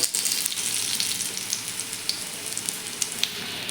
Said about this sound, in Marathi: कमी तेलावरती आपण या वड्या छान अशा खरपूस होईपर्यंत परतून घेऊया